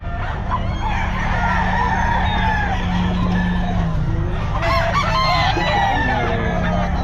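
An 18-month-old bullstag rooster crows loudly and close at a busy pet market, with clucking fowl and crowd noise around it.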